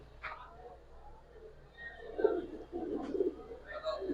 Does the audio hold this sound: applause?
no